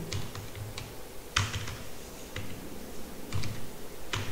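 Code typed on a computer keyboard, with close clacking keystrokes in small clusters and a few sharper key hits over a steady background hum.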